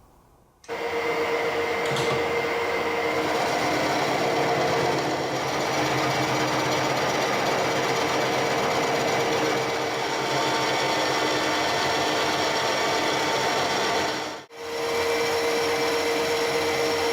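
A lathe machines out the bore of an out-of-round bar held in a fixed steady, giving a loud, steady mechanical whir with a constant tone that runs almost without a break, briefly dipping near the end.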